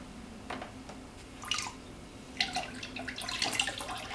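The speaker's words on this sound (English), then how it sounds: "quickly place the pipe inside so that the water runs through the pipe" Water trickles and splashes from a pipe attached to an F20 air-to-water machine, soft irregular drips and gurgles that grow busier toward the end, faint and close.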